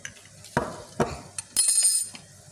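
A spoon scrapes and clinks through sautéed ingredients in a pan for figatah, an Arabic dish. The strokes come in sharp bursts over a faint sizzle, ending in a louder rattling stir.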